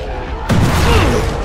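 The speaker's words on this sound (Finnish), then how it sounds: "Nyt oli paha räjähdys." A sudden loud booming blast from the zombie game Dying Light erupts after a brief lull, followed by a rumbling, crackling decay.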